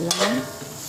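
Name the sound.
stirring arroz valenciana in a pan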